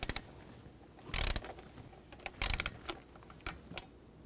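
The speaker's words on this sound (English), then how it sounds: "we can take a torque wrench and tighten these bolts to 62 inch-pounds" A torque wrench ratchets as ignition coil bolts are tightened on a 2009–2014 Ford F-150, with two short bursts of rapid clicking close by and a few faint ticks between them.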